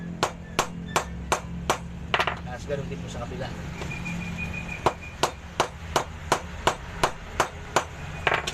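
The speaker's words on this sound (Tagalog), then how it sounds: "itong butas ng ating rotor, pupukpukin po natin siya. Yung bola na martilyo" A ball-peen hammer pounds on the rotor hole of a washing machine in sharp, regular metallic strikes, with a brief flurry of quicker taps midway, while someone speaks briefly over it.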